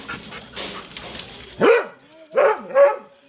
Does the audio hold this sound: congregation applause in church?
no